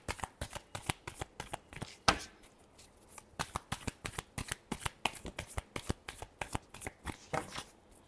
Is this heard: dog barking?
no